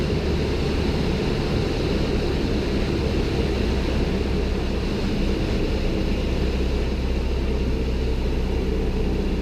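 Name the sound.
light aircraft engine reducing power to level off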